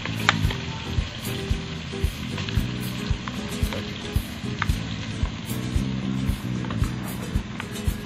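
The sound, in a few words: stirring chicken keema and peas frying in a pan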